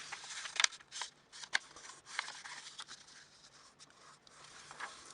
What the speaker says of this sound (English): I'll trim that strip off.